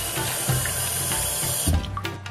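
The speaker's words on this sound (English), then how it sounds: "So what I do is wash it gently with cold water." Rice being gently washed with cold water in a kitchen while prepping sea bream rice, a continuous close splashing and rushing of water with soft swishes and a change in flow near the end.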